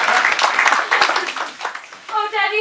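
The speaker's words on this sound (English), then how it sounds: "Clap if you believe" A theatre audience at a community stage production of Peter and the Starcatcher claps in a brisk, uneven burst while a voice speaks over it, and the clapping gives way to speech near the end.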